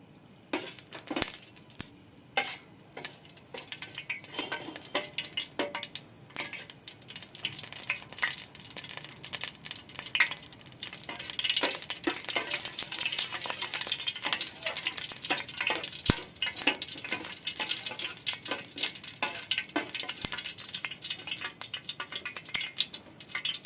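Fenugreek seeds frying in hot sunflower oil for a fish curry, a dense continuous crackle and sizzle with scattered sharp pops and light clinks of a utensil against the pan, close and steady throughout.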